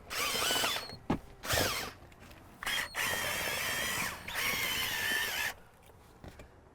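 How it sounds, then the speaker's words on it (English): A drill whirs in several bursts, starting and stopping, its pitch shifting as the spinning brush scrubs inside a car cup holder, close and loud. "put it over the drill brush head, stick it in the cup holder and turn them on"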